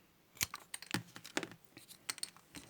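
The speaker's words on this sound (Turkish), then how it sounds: "Sonra bu pipeti ortadan ikiye kesiyorum." Scissors snip a plastic drinking straw in a series of quick, sharp, close clicks and crunches, faint and without talk.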